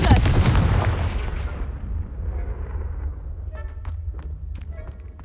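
The Confringo fire spell in Hogwarts Legacy explodes with a loud blast that rumbles and fades over a few seconds, leaving a low roar and scattered clicks and crackles behind.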